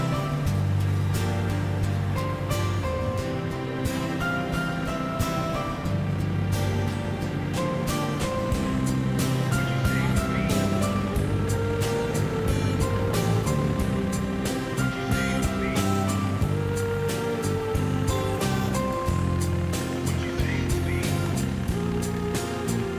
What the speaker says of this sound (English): by the time I start up my pressure washing machine and everything